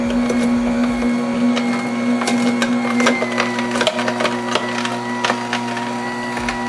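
A Kedemas slow masticating juicer churns produce with a low motor drone, irregular crunching and cracking bursts, loud and close throughout.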